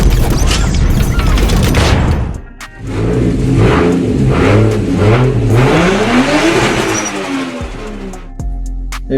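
A 2JZ engine fitted with a big Garrett G35 900 single turbo, in an S14, revs hard and loud close by, its pitch climbing and falling through several throttle blips with popping exhaust and a brief lull before a final drop to idle.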